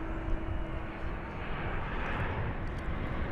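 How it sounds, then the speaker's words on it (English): United Airlines Airbus A320 departing DFW Airport for Denver, a loud, dense engine roar that holds steady for a few seconds with a low hum beneath it. "That's United Airlines flight number 2655. It's going out to Denver. It's an Airbus A320."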